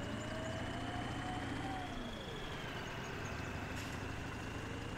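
A tractor engine in Farming Simulator 17 runs steadily at a low, even drone with a faint rising whine as it revs, continuous and quiet throughout.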